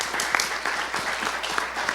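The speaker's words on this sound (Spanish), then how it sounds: "Pido un aplauso, por favor." Audience applause from a legal conference audience fills the moment with steady, fairly faint clapping that lasts the full two seconds, with no voices over it.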